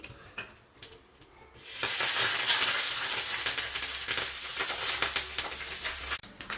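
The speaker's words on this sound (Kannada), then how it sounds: "ಒಗ್ಗರಣೆ ಹಾಕ್ತಾ ಇದ್ದೀನಿ." Tempering of turmeric, asafoetida and curry leaves hitting hot oil for a green mango chutney: quiet clinks first, then a sudden loud sizzle that holds steady, crackling close up, before cutting off near the end.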